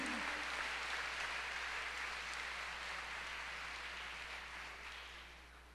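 A church congregation applauds in a steady, dense wash of clapping that gradually fades, with no voices over it.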